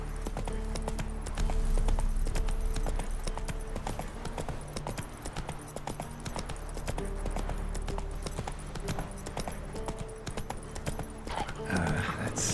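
Roach the horse gallops in The Witcher 3, rapid rhythmic hoofbeats pounding close and steady under faint game ambience, with brief speech near the middle.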